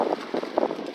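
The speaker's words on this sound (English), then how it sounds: "Awful windy, folks. Awful windy." Strong wind blowing outdoors beside a tripod-mounted camera, buffeting the microphone in rough, gusty bursts of low rumbling noise that swell and ease several times in one second.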